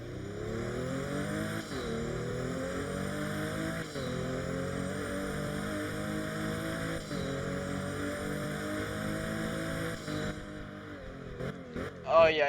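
Pagani supercar in the Driving Empire video game accelerating hard, its engine note climbing through several rising gear pulls with brief shift dips, loud and steady throughout, ending with a few sharp pops.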